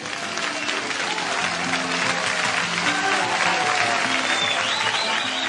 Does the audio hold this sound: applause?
yes